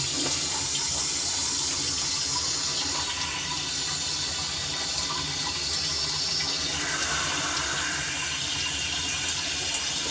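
A toilet cistern refills with dirty water after a water main failure, its automatic fill valve hissing steadily and continuously throughout, close and loud with no voices.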